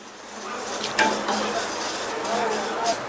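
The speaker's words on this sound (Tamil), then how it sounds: "இப்போ எள்ளு பார்த்தீங்கன்னா படபடன் பொரியுது" White sesame seeds roasting in a hot pan, giving a soft, steady crackling and sizzling with light stirring scrapes, partly under a person talking.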